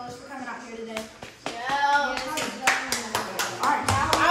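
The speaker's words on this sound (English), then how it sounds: "Let's get a round of applause for these two fellows for coming out here today." A round of applause for two table tennis players at a championship tournament: several seconds of hand clapping that swells and continues, with voices talking and calling out over it.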